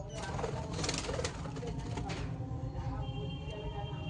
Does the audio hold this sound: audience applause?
no